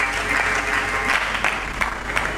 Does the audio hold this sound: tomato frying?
no